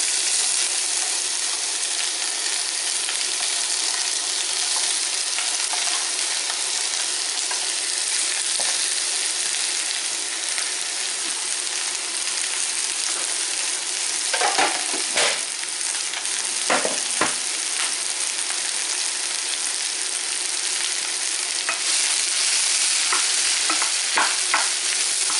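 A loud, unbroken sizzle of onions frying in a pan for tuna-stuffed msemen continues for a long stretch, with a few scrapes from stirring about midway and again near the end, all up close with no voices.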